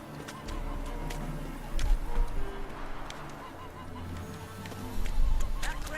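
Geese honking in The Witcher 3: Hearts of Stone, several nasal honks over a steady game ambience with occasional louder bursts and a faint voice in the background.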